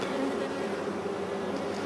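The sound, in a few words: honeybees buzzing around a small swarm's frame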